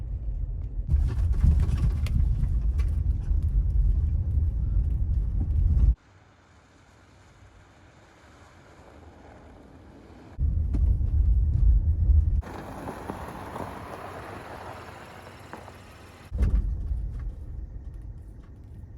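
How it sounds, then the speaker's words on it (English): A Honda Pilot EXL on worn, half-used all-season tires brakes on an icy mountain road, with a loud low rumble of tires and road noise that cuts out abruptly, then returns in bursts alongside wind buffeting at the microphone. "we're gonna do some stopping test and see how far this thing slides"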